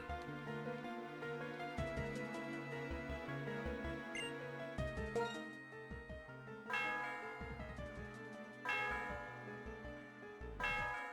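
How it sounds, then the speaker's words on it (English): Bell ringing in a Pokémon game with a Gen 3-style sound font, several chiming strikes with ringing tones over game music, moderately loud with no talking. "She rang the bell, but it was in like a Gen 3 sound font"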